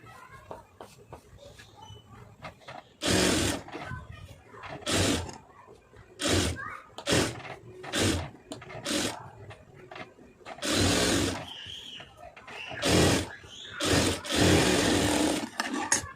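A sewing machine stitches a narrow folded hem on a blouse neckline, running in short loud bursts of rapid whirring separated by pauses, with quiet handling sounds between.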